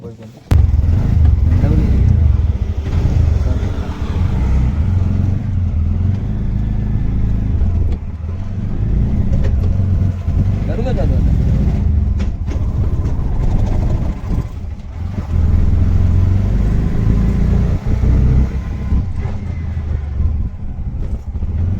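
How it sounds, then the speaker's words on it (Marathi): A new auto rickshaw on the road to Titwala gives a loud, steady engine drone with road rumble, and someone talks over it throughout. "ही आपली नवीन ऑटो रिक्षा आहे ना आपण हीच ऑटो रिक्षा आज घेऊन चाललेलो टिटवाल्याला"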